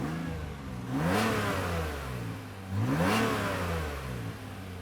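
A Nissan Stagea engine idles with a mid-pitched hum, running without misfires, then revs up twice in smooth swells and falls back each time, close by with no talking.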